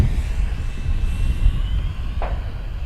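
A Flightline 1600mm Corsair RC warbird running on a 6S 6000mAh lipo flies overhead, its electric motor droning steadily at a moderate distance with a thin whine and a rising pitch as power comes in.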